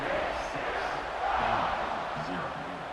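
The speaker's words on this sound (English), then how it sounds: "this crowd is buzzing after that last score" A football stadium crowd at TCU versus Baylor buzzes after a touchdown, a broad, loud, continuous roar of many voices that swells slightly in the middle, with an announcer speaking over it.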